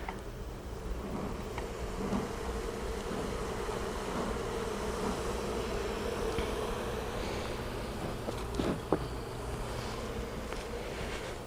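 Honey bees buzzing around a beehive honey super, a constant close droning hum with individual bees passing near the microphone and a few light knocks.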